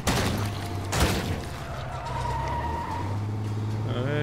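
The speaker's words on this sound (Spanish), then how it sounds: "Este coche es muy potente, pero creo que hace bastante ruido." A powerful, noisy car roars along in State of Decay 2 with a loud continuous engine drone, a sharp impact near the start and tyres squealing toward the end.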